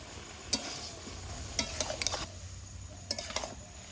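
Chopped tomato and whole garlic cloves sizzle quietly in a frying pan for a mutton tripe dish, a steady low hiss punctuated by several sharp spatula scrapes and clinks against the pan.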